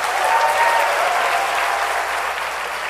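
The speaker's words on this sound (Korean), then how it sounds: "우리 전국에 있는 교사를 위해서 박수 한번 쳐주십시오" An audience at a lecture on teacher wellbeing claps for teachers nationwide, a full, steady wash of applause from a large room that holds level throughout with no voices over it.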